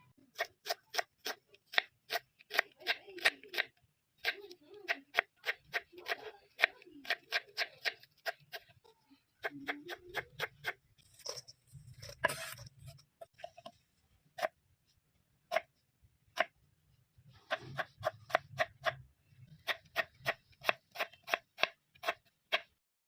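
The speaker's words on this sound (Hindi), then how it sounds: "फिर अभी धनिया काट के ये भी डाल दिया" A knife chops coriander leaves on a board in quick, crisp, evenly spaced taps, close and clear. The taps run in bursts separated by brief pauses, with faint rustling between them.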